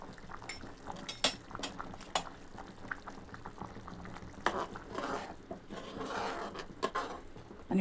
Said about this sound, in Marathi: वाव, मस्त उकळी आलेली आहे.